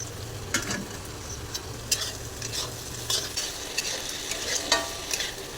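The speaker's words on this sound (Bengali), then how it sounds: "এখন আমি আলু কুচি করা দিয়ে দেবো।" Chopped potato with onion and chilli frying in a pan for home-style chow mein, a soft steady sizzle broken by repeated spatula scrapes and stirs at an irregular pace.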